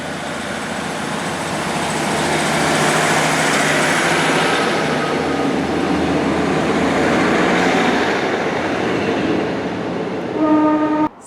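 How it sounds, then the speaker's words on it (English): A train on the Coryton branch line rumbles into the station loudly and steadily for several seconds, a long horn-like tone sounding near the end before an abrupt cutoff. "you can even just see the train coming in now"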